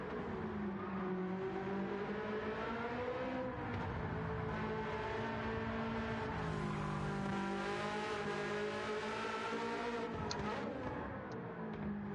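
A race car in the racing video game Gran Turismo 7 accelerates hard, its high-pitched engine revving and climbing through gears in a continuous loud whine with rising and falling pitch.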